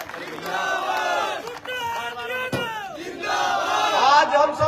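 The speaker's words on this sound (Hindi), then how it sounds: "दोनों हाथों से ताली बजाकर शेर राजस्थान सम्माननीय सुप्रीमो हनुमान बेनीवाल जी का आप सब लोग कर्तव्य ध्वनि के साथ स्वागत करें" Large outdoor crowd at a Tejaji bhajan evening in Nagaur roaring, shouting and clapping to welcome MP Hanuman Beniwal, a loud sustained wave of cheers that swells again toward the end.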